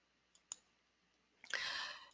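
A computer mouse gives two light, close clicks, and then a softer rising whoosh-like sound follows as a webpage link opens, all quiet with no speech.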